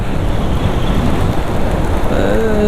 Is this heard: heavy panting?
no